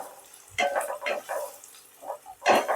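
Chopped onions hit a hot pan, giving short bursts of sizzling and stirring scrapes close by, with brief pauses between them.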